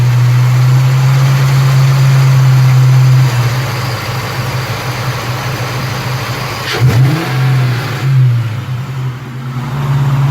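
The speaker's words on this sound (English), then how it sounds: "we're going to try and see if you can hear this when I rev the engine up here" A Ford SVT Cobra SN95 4.6L V8 with a knock runs close by, its steady idle drone rising as it is revved, then easing back, with faint traffic in the background.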